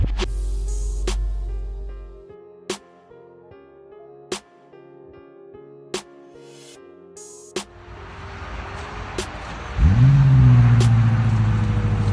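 A 2023 BMW M5 Competition pulls hard in third gear, a loud surging engine note swelling in near the end after a stretch of quieter sounds with sharp intermittent clicks.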